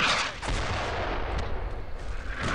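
Mortar team fire in the World War II game Brothers in Arms: Road to Hill 30, a dense, loud barrage of booming blasts and crackling gunfire rolling continuously over about two and a half seconds.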